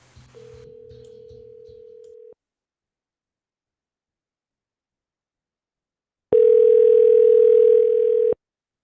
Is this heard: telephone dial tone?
yes